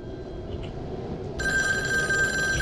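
An old Taiwanese public telephone in the game Devotion starts ringing partway through, its bright trilling bell jumping in suddenly and holding steady over a quiet, hissy room background.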